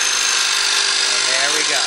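A lathe gouge takes a peeling cut on spinning wood, giving a steady, loud, broadband hiss and shaving noise that continues without a break.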